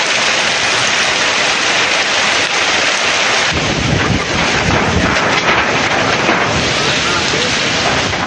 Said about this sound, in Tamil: பலத்த காற்றுடன் மழை வெளுத்து வாங்கியது